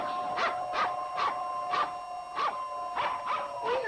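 A dog barks repeatedly in a quick, even rhythm, about eight sharp, fairly close barks spread over a few seconds with no talking.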